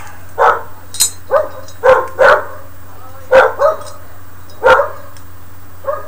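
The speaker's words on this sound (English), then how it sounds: "Dogs in the neighborhood go bow wow wow." Dogs barking in a neighborhood, a series of sharp, moderately distant barks in irregular bursts of one or two, over a low steady hum.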